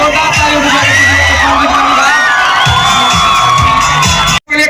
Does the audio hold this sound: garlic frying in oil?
no